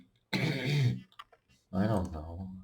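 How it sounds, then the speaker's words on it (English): Close up, a person gives two short bursts of coughing and throat clearing, separated by a brief pause with a few faint clicks. "Sorry, I'm just coughing."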